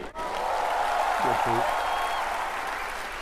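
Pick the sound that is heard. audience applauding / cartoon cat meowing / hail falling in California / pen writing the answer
audience applauding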